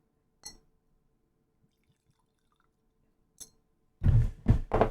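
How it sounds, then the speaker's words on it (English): Añejo tequila poured into a glass, a short burst of liquid splashing and filling near the end after two faint clicks, close and alone with no talk. "We'll go ahead and pour it into the glass."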